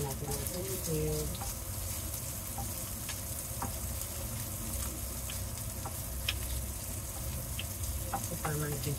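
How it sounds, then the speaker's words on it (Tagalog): Eggplant sizzling and frying in oil in a pan for a Filipino stir fry with shrimp paste, a steady close crackle with occasional clinks of utensils, continuing under faint talk. "Ito para mag-gisa na siya."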